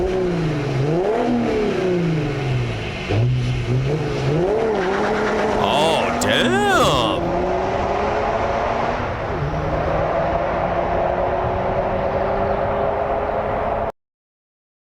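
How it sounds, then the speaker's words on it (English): A European diesel car engine revs loudly with rising and falling pitch sweeps, a sharp high rev burst near the middle, then a steady drone, under a man's reactions. "You might not know if that's a diesel or you might mistake that for a petrol engine, to be honest."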